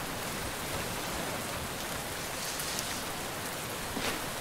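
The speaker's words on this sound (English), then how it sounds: "Oh boy, we got a big old storm coming in. This is interesting. It's raining hard." Heavy rain pours during a storm in the video game Len's Island, a dense and steady hiss that stays constant and even from start to finish.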